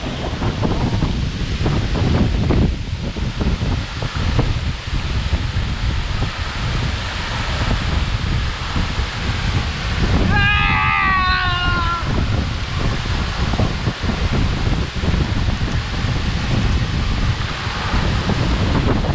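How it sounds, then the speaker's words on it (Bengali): Strong cold wind sweeps through a mountain forest, a loud, constant roar buffeting the microphone, with a brief wavering tonal call midway. "সত্যি যতটা কাছে যাচ্ছি ততই বাতাস বেশি, অনেক বেশি বাতাস।"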